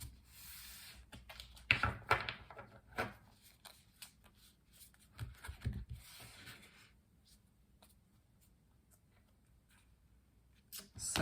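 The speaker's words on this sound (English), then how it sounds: "Let's move on and do some shuffling and pull 6 tarot cards for the month" Tarot cards are shuffled close up in soft, irregular bursts of riffling and sliding card stock, with quiet pauses between handfuls and a final rustle at the end.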